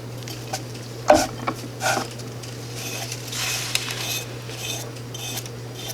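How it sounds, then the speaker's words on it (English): Scooping and stirring a thick cinnamon mixture inside a glass jar: scattered scrapes and clinks, with a sharper knock near the start and softer scraping after, against a steady low hum. "I'm scooping down, trying to get a lot of that cinnamon gook"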